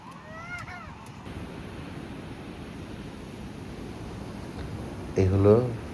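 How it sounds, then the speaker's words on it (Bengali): Evening sea waves break and wash onto the beach at Puri, a steady surf roar with wind across the microphone, while a brief voice is heard near the start and again near the end. "এ আবার একটু অন্যরকম, ঢেউয়ের পর ঢেউ চলে আসছে।"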